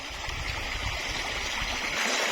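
A shallow stream flows beside a hillside plot of land, its steady, close rushing and gurgling water filling the short stretch without voices.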